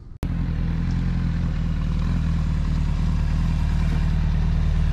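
Motorcycle engine held at low revs while the clutch controls it during a rolling burnout demonstration, a steady close idling rumble with slight clatter after a brief start, no talk.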